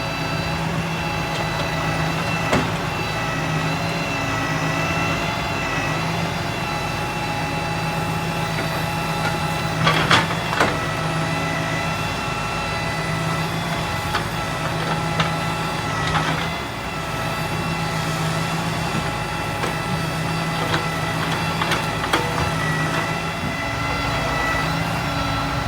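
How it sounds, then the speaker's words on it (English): A log truck unloads a load of mixed hardwood logs at a firewood yard. Its steady diesel drone runs throughout, close by, with a few knocks and clunks of logs in the middle and no talking. "Bob is one master at this log truck."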